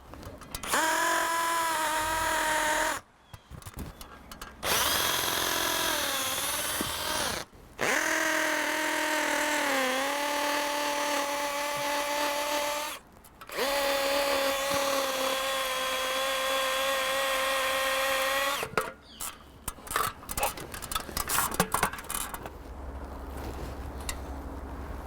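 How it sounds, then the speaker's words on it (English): A power drill bores holes about 6 to 7 centimetres deep for tree nails that fix a mesh mount, its steady motor whine running in long loud bursts with brief pauses, ending in looser clattering handling. "Drill the holes approximately 6 to 7 centimeters deep."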